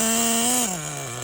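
A Losi XXXNT nitro RC engine, restarted after about 20 years, idles with a loud, close, high-pitched buzzing drone that dips slightly lower and steadies partway through.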